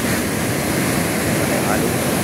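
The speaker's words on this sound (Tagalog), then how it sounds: "Ay, laki pa ho ng alon." Big waves break and wash onto a shore in a steady, loud roar of surf that fills the short stretch, with a rush of wind over it.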